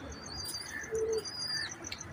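An 18-year-old pigeon coos softly on a rooftop, a short low coo near the middle, faint against background chirps and bird calls.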